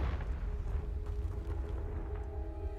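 A Confringo blasting spell in Hogwarts Legacy bursts into a deep, rumbling explosion that rolls on as a loud, sustained low roar with scattered crackling debris, with no speech.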